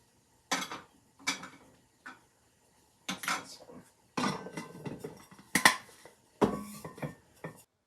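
Plastic containers and lids clattering as they are sorted and put away in a mobile home kitchen, a run of separate knocks and clacks in uneven bursts, close and fairly loud, with no talking.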